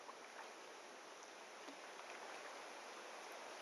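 Water pouring over a small dam with a drop of about 3.5 feet on the Upper Loxahatchee River, a steady, even rush of flowing water with no voices.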